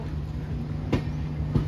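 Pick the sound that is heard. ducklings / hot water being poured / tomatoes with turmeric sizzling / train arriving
train arriving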